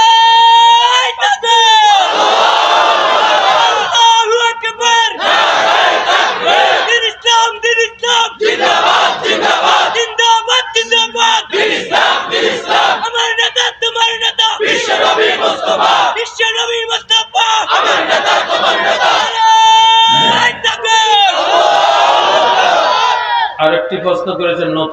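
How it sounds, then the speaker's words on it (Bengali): A large crowd loudly chants slogans in rhythmic, call-and-response bursts with a leading voice shouting lines, continuous and forceful throughout. "দাও না স্লোগান জোরে সোরে"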